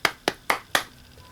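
Four crisp hand claps in an even, quick rhythm, close and clear, followed by a short quiet tail with nothing else around them.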